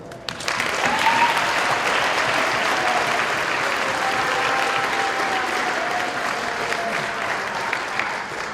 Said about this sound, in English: I think they owe a nice round of applause.